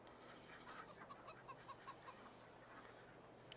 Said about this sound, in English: And there's our chickens and our ducks.